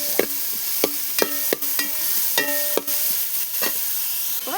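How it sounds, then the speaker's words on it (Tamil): Large onion being sautéed in a pan for Tamil fish curry (meen kuzhambu), with steady sizzling and frying hiss broken by repeated sharp clinks and scrapes of a spoon stirring against the pan. "இப்போ நம்ம வெங்காயம் சேர்த்துக்கலாம்."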